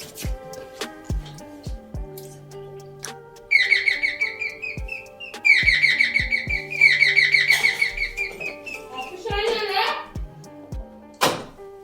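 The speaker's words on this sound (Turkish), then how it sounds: "O zil çaldığı zaman birkaç kere çalacak." An electronic doorbell inside a home rings several times with a chirping, birdsong-like chime in repeated bursts, amid sharp knocks, thuds and clatter nearby.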